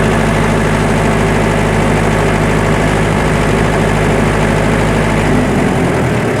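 A diesel generator engine runs loudly and steadily during a protection test, a dense continuous drone with a deep low hum that changes only slightly near the end.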